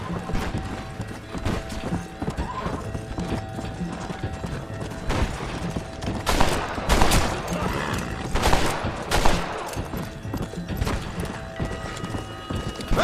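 Gunfire rings out during a Red Dead Redemption shootout, with several loud shots standing out over a steady background of hoofbeats, horse noise and mechanical clatter; no talking.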